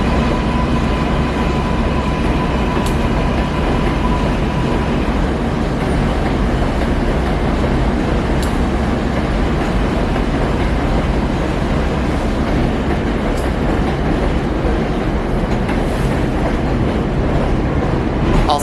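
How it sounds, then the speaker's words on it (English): A New York subway work train rumbles past on the rails, a loud, continuous roar with steady clatter close by, holding level throughout without a break. "So that means I get to see rare work train."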